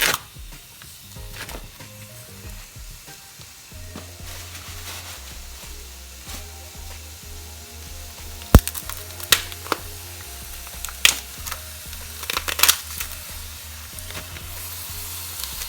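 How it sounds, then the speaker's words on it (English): Steady frying sizzle of taco meat in a pan, with occasional clinks and clatter of utensils and a few sharp knocks near the end; no talking. "You hear the sizzle, right?"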